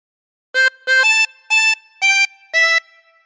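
A harmonica blows a short phrase from Ten Green Bottles, roughly six clear, separate notes in a steady, slightly halting rhythm, close and alone against silence.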